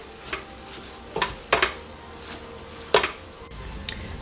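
Kale cooking in a pan is moved around with a utensil, giving a handful of distinct scraping clinks over a low, quiet sizzle.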